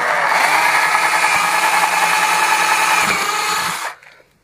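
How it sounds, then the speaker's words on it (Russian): Power drill boring through a washing machine tank, a loud, steady high whine running for about four seconds before winding down and stopping. "и сверлю"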